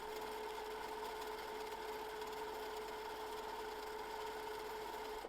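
A sewing machine runs steadily, stitching straight lines across a quilt block; a continuous, even mechanical hum holds at a constant level throughout with no pauses.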